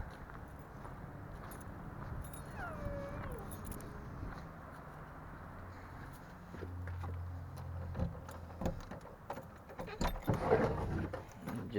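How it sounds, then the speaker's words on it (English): A bunch of keys jangling near the end of a quiet stretch inside a cluttered car workshop, brief metallic rattles over faint background noise. "Let me get the keys to the back building"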